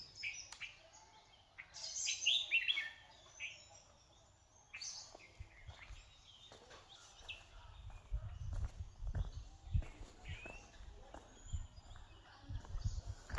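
Outdoors on a misty Konkan morning, birds tweet faintly in the distance with a short cluster of chirps early on, while footsteps and light rustling crunch close by throughout.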